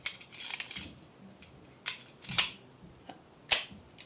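A Colt 1911 pistol fires a few sharp, cracking reports spaced unevenly, with quieter clicks and handling noise between the shots.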